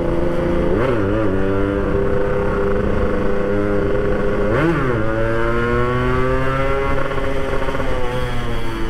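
A Yamaha RX-King two-stroke motorcycle engine heard while riding, a loud close buzzing drone that dips and rises through a couple of gear changes and then climbs steadily as it accelerates.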